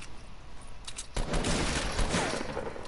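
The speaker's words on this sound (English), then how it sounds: "A hunting rifle!" Gunfire from a hunting rifle in a video game breaks out after a quiet stretch, a burst of several close, loud shots running together.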